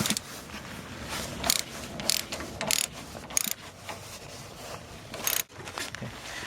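Ratchet working the upper strut nuts on a Chevrolet TrailBlazer, a series of irregular metallic clicking bursts close by, with short loud pulls and pauses between them and no talk.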